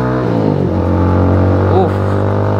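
An IGM KPR 250 motorcycle accelerates during a 0 to 100 km/h road test, its loud, close engine drone climbing in pitch and then dipping briefly before rising again.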